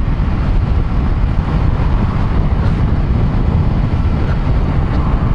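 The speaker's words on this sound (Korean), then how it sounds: "주행풍 때문에 내 배기음 소리가 하나도 안 들려요" Loud, continuous wind rush buffets a rider on a Kawasaki Ninja 400 above 100 km/h, a dense low roar that buries any exhaust note, steady from start to finish.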